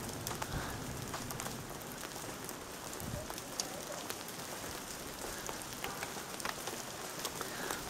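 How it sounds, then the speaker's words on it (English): Hail falls steadily on outdoor surfaces, a dense, even patter of many small impacts at moderate distance, continuous for the whole stretch with no voices. "It's hailing."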